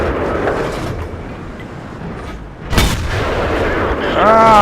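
A heavy tank cannon booms once in World of Tanks, loud and close, over constant engine rumble, with a rising whine near the end.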